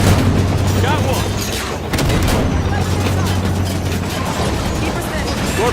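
Battle noise from the Halo 5: Guardians video game as a Scorpion tank comes under fire, with steady rumbling booms and bursts of gunfire and artillery blasts filling the scene throughout, mixed with game voices.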